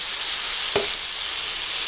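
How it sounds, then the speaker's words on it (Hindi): Half a kilo of chopped tomatoes hit a hot tawa already cooking spicy chicken, giving a steady close sizzle with one brief clunk as they land. "अब हम इसमें टमाटर डालेंगे।"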